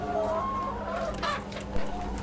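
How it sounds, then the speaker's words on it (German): A henhouse holding up to 500 chickens, clucking and murmuring together, a busy continuous chatter of many birds nearby. "In diesem Hühnerstall können bis zu 500 Hühner gehalten werden."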